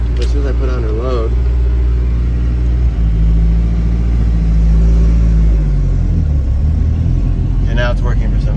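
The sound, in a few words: truck engine revving as gas is applied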